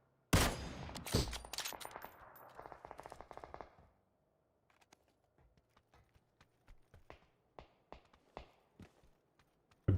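Rapid bursts of SMG gunfire in PUBG, a dense spray for the first few seconds, then scattered single and double shots with footstep-like clatter, fairly loud and close, with no talking.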